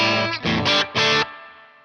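Electric guitar chords through the dirty channel of a Fender Combo Deluxe 65 amp with reverb: a few distorted strums in quick succession, loud and close, ending with a reverb tail.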